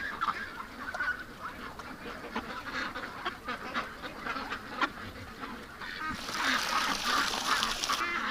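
Ducks quack and honk at night around their shelter, a busy cluster of calls close by with rustling and a voice talking in the background, a louder hissy stretch near the end.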